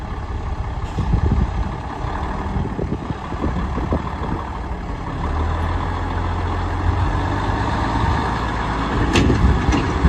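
Truck engine running at a steady, loud diesel rumble close by, with uneven knocks and rattles early on and a low droning hum through the middle, no voices heard.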